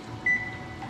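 A kitchen timer gives a single short, clear beep as it is set for oven-baked lemon pepper wings, heard alone against a quiet room hum.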